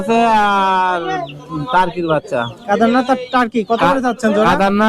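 Chickens cluck and call at a busy village poultry and pigeon market, mixed with nearby people talking throughout.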